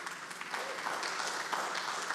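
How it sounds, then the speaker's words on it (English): Applause from an audience at a public meeting, a steady dense wash of clapping holding at an even level throughout. "No applause, please."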